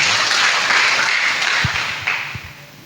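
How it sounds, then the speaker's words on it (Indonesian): A church congregation claps together during a morning worship service, a brief dense burst of applause with a few low thumps, fading slightly toward the end. "Kita berikan tepuk tangan buat Tuhan."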